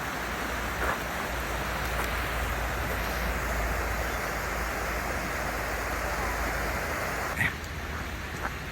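Flowing water of Dunfield Creek on the Appalachian Trail in New Jersey, a steady broadband rush that carries on without a break for the whole stretch, with a couple of faint brief knocks near the end.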